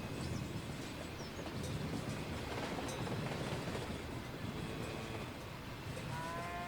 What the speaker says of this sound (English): Oh, the train's coming back again, look.